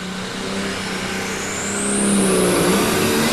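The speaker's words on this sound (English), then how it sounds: "Here comes the RPMs up." A pulling tractor engine revving at a 1995 farm machinery show, a loud sustained roar that climbs steadily in pitch as the RPMs rise, heard close with no talk.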